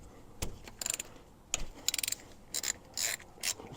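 A ratchet with a T27 Torx bit loosens a bolt on a Super Duty wheel hub, giving several short bursts of rapid metallic clicking, close and fairly quiet, with pauses between them.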